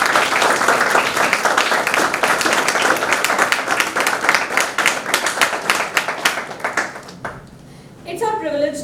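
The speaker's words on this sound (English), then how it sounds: "Let's get started with a big round of applause." At a college inauguration ceremony, an audience applauds loudly with dense, sustained clapping that fades toward the end as a voice begins speaking.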